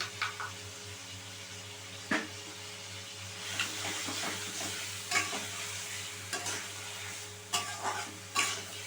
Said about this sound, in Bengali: পেঁয়াজ বাটাটা দিয়ে কিন্তু আরও মিনিট 2-3 মতন আমি ভালো করে আমি কষিয়ে নেবো।